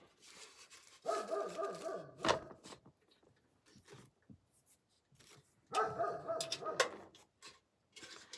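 A dog gives two separate bursts of whiny, yelping barks a few seconds apart, close but quiet, with scattered small sounds in the pauses and no talking.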